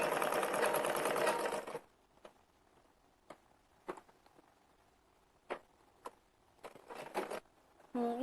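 A sewing machine runs in one loud, dense burst while stitching around the corners of a Rajasthani kurti and kanchali, then falls quiet apart from scattered clicks and handling taps.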